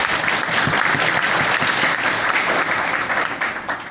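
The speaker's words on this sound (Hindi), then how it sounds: "कम से कम उनके प्रयास, उनकी सोच और उनकी कार्यशैली पर हम लोग जोरदार ताली तो बजा रहे हैं।" Loud, dense applause from an audience at a university science faculty inauguration, a continuous wash of many hands clapping that carries steadily and tapers slightly at the end.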